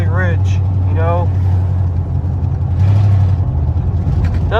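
A loud 1987 Ford Bronco XLT engine, running very rich, rumbles at a low, uneven idle, with a couple of brief voices heard over it.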